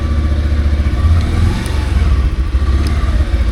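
A 2022 Bajaj Pulsar 150 BS6 motorcycle engine revs loud and close, a throbbing mid-pitched rumble swelling and easing with throttle, with no voices.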